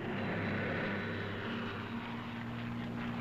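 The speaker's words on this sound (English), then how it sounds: "Here is the Lightning, the P-38, master of the air in many theaters of war." Steady drone of a P-38 Lightning, a twin-engine World War II American fighter aircraft, with a loud continuous propeller engine roar and low harmonic hum throughout, heard without any talking.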